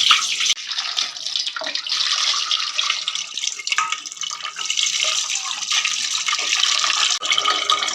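Tap water runs steadily while fish roe is rinsed in a kitchen, a continuous splashing rush with small shifts in intensity and no speech.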